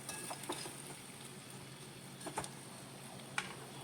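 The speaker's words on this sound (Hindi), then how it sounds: "साथ में मसालों के साथ पनीर को मिक्स करूँगी मैं इस तरह से" Paneer and spices are stirred in a cooking pan: soft scraping strokes and occasional light clicks of a spoon over a faint, steady sizzle, all quiet and close.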